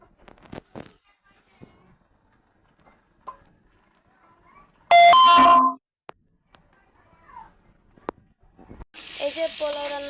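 Pilau rice goes into a hot pot in a rustic home kitchen, sending out two loud bursts of sizzling frying between quieter stretches where people talk nearby.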